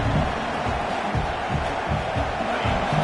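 Stadium crowd at a Nebraska college football game, early in the contest, a steady broad roar of many voices with no break, fairly close and full.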